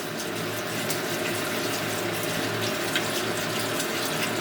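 Distilled water runs steadily over gold during a rinse on a hot plate, a constant close hiss and trickle with no pauses and no talking.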